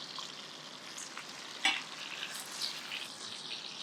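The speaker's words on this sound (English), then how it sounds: "See that fry and that sizzle?" Butter-basted New York steaks frying in a pan, a steady soft sizzle with a brief louder pop midway, heard alone without talk.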